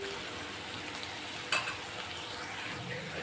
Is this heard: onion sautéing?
yes